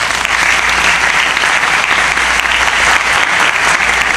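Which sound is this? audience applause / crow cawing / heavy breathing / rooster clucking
audience applause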